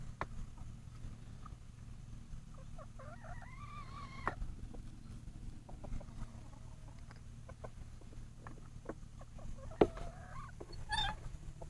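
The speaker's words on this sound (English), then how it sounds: "I'm just kind of checking on some new chickens here." Hens clucking around a farm chicken coop, with scattered short calls and soft murmurs over a steady low background hum, occasionally rising into brief louder squawks.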